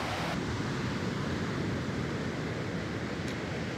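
Surf washing onto a Caribbean beach at night, a steady broadband wash of breaking waves with some wind, continuous and moderately loud with no voices.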